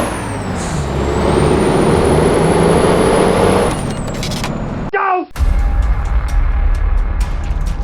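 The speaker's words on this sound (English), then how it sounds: "just listen to this engine" In Euro Truck Simulator 2, a Freightliner FLB truck engine drones loudly with a high whine, then an air brake hisses sharply, followed by a quieter idle with clicks. Speech is present.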